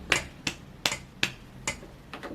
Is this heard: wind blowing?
no